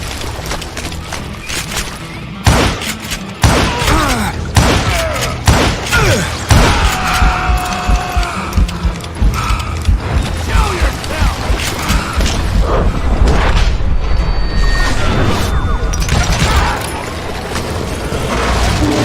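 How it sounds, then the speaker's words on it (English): A gunfire volley rains down from above in the Call of Juarez Gunslinger video game: dense, loud bursts of shots and booming impacts crackle almost without pause across the whole span, with mechanical clatter mixed in. "a fusillade of bullets come raining down from on high"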